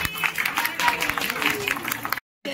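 Audience at an award event in Kolkata clapping for Mister Khan, a busy patter of applause under a speaking voice, cut off by a brief silence near the end.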